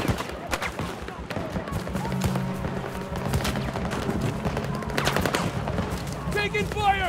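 Gunfire fills a Battlefield 2042 firefight on the Stranded map: bursts of automatic fire and single shots, near and far, with a few heavier booms. Voices call out under the shooting.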